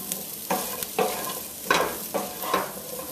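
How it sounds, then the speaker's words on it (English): Chopped cauliflower stirred in a curry pot, a soft steady sizzle broken by several distinct scraping stirs at irregular intervals, close and alone without talk. "Start adding the chopped up cauliflower to the pot. And give that a quick stir."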